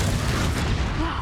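A Confringo fire spell in Hogwarts Legacy bursts as one loud, short, booming blast that rumbles briefly.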